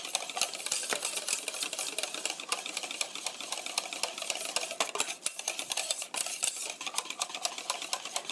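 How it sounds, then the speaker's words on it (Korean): Tortilla dough mixture stirred steadily in one direction in a bowl, a dense continuous scraping and swishing with quick repeated strokes, close and fairly loud with no talking. "한 방향으로 계속 저어주세요."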